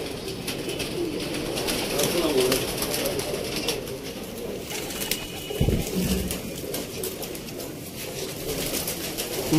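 Golden pigeons in Sialkot coo softly and repeatedly amid a busy background of rustling and faint chatter.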